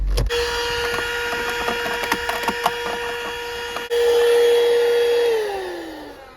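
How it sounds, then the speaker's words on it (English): A small plug-in car vacuum cleaner whines steadily up close inside a car amid clicks and rattles, then its pitch drops as the motor winds down near the end. "It is a car vacuum cleaner, so it just plugs in there."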